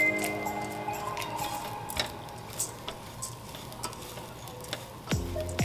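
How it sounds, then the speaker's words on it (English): Soft crackling and sizzling of rice roasting in a hot pan, with scattered small pops and ticks over a steady low hum, close by. "you could actually hear it cracking too as it's pretty much roasting in there"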